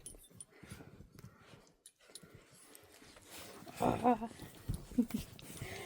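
A puppy gives a few short, high whimpers partway through, close by, while a person speaks softly and other dogs shuffle around.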